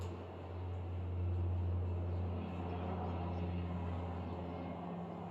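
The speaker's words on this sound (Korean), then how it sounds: "헬리콥터 지나가잖아 지금." A helicopter passing overhead, heard as a faint, distant, steady engine and rotor drone that swells slightly and then eases over several seconds.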